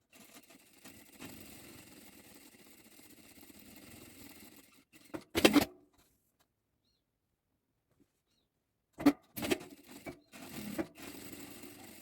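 A sewing machine topstitches a handmade fabric wallet in two short, loud bursts separated by a long silent pause, with quieter handling noise before and after.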